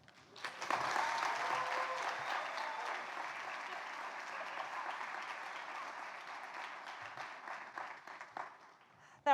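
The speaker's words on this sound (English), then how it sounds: "Let's give another round of applause." An audience at the Kauffman Uncommon Leader Impact Awards ceremony breaks into applause. The dense clapping swells quickly, holds steady for several seconds, then slowly thins out toward the end.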